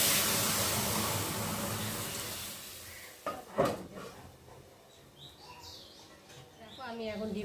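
Garlic and onion fry quietly in a cooking pot before a lid goes on with one sharp metallic clank about halfway through. The sizzle then fades, and birds chirp faintly in the background.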